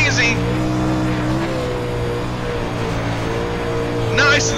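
A modified race car in an online racing game runs around the Knoxville track with a loud, steady engine drone held at high revs. A voice is briefly heard at the start and end.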